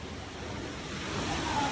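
Floodwater from a typhoon rushes into a house in a continuous, broad roar, like a strong flow pouring through nearby, swelling slightly louder toward the end.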